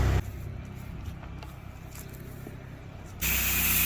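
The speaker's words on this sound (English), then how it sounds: "We're just gonna spray right here until we see that our solution's coming out." A pressure washer sprays cleaning solution through a downstream injector, a steady hiss for a few seconds between louder bursts of rushing noise at the start and end, close by and continuous.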